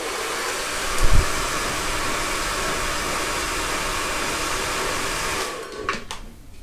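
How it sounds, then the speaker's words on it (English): A hairdryer blasts air through a fringe in a loud, close, steady roar with a brief bump of handling early on, then the sound drops and shifts near the end as the dryer moves away or cuts off. "hairdryer and dry my fringe"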